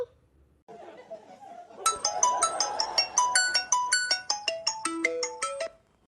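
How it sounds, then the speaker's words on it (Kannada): A bright, melodic phone ringtone plays a repeating pattern of chiming notes, loud and close, with faint background chatter before it starts. "ನೋಡು ಮಮತಾ, ಫೋನ್ ಬರ್ತಾ ಇದೆ, ಎತ್ತು."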